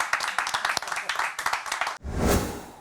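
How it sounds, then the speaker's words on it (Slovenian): Audience applause for guest Marko Žerjal, a short burst of clapping with distinct hand claps over roughly two seconds, then a sudden cut to a different, denser sound. "dajmo en aplavz za..."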